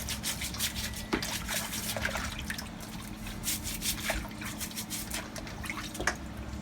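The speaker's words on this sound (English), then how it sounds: "this is the water I'm using to clean my crabs" Water drips and trickles steadily while snow crab legs are rinsed and cleaned by hand, with soft rubbing and small splashes running close up throughout.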